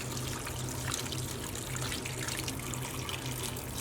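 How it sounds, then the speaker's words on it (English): Water pours steadily into a pot of lamb shanks with black pepper and bay leaves, a continuous close splashing rush that stays even throughout with no talking. "And all we need to do now is top this up with water."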